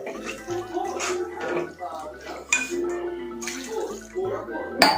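Water splashes and pours into a pot of chicken liver and potato curry over a steady low hum, with a voice talking throughout.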